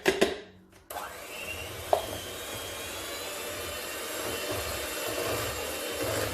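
Electric mixer whisking American buttercream frosting, a steady continuous whir that runs almost without a break, with a brief knock near the start and no talk over it.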